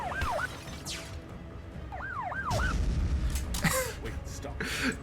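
A police car siren sound effect in a Lego animation sweeps briefly in short bursts amid crashes and other busy action sounds, the wail cutting in and out rather than holding steady.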